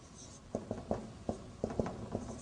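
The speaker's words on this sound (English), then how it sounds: "but I am writing it here, brother." Hand writing during an Arabic grammar lesson: a series of quick, faint scratching strokes in uneven bursts over a steady background hiss.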